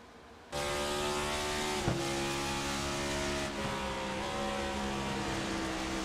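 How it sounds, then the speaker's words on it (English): Race car on an oval at Darlington Raceway, a steady loud engine drone with shifting pitch as it downshifts entering turns 1 and 2, continuous throughout with a brief bump in the middle. "You hear him downshifting into 1 and 2 as well."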